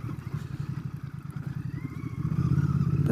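Royal Enfield Bear 650 motorcycle ridden off-road toward a causeway, a close, thumping twin-cylinder engine pulsing steadily with faint clatter, then revving louder toward the end.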